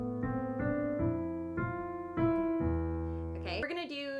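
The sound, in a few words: piano playing part of a song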